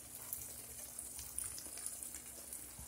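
Milk being stirred into browned meat in a cast iron skillet for a cheeseburger macaroni meal, a soft continuous sizzle and wet stirring close by, with no talk.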